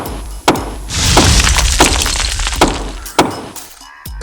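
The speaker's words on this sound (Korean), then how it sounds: "맹렬하게 손도끼로 그 커다란 접시를 때리기 시작했습니다." Repeated heavy metallic smashing blows, about five sharp impacts spread across the clip, with crunching and clattering debris between strikes.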